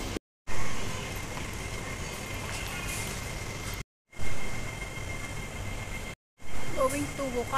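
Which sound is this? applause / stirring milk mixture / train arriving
train arriving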